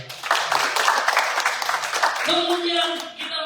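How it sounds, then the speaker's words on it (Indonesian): Church congregation clapping for a speaker, a burst of many hands at moderate loudness that thins out as a voice and instrument tones come in over it. "Ya, berikan tepuk tangan untuk dia."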